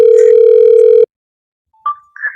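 A telephone dial tone sounds loud and steady for about a second and then cuts off. After a short silence, brief electronic beeps follow.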